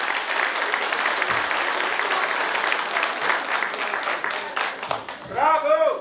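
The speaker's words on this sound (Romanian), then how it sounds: "Aplauze încă o dată" Applause from an audience at a folk and traditions festival, a full sustained burst of clapping that holds steady, then thins as a voice and crowd noise rise at the very end.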